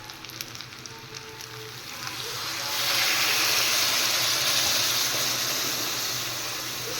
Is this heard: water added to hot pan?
yes